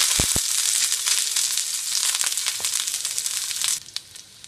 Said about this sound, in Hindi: अब इन अंडों को नॉनस्टिक पैन में डालें और इन्हें तलें।